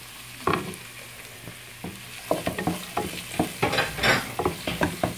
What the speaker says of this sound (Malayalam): എന്നിട്ട് നമ്മൾ അതിനകത്തോട്ട് സവാള ഇടുന്നു.